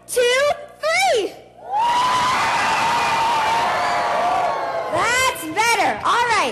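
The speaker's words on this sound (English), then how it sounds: "let's hear a cheer while we do that too" A large crowd at the Vancouver 2010 mascot launch erupts in a loud, sustained cheer with whoops and screams lasting several seconds, bracketed by a host's amplified voice talking before and after.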